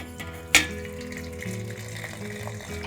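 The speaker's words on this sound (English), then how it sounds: "pour the water in." Water poured from a kettle into a teapot holding tea leaves, a steady close gurgling stream after a sharp clink of the lid, continuing evenly to the end.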